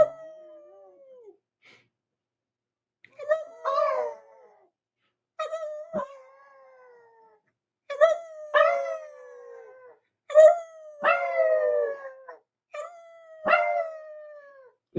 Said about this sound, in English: I taught him how to howl.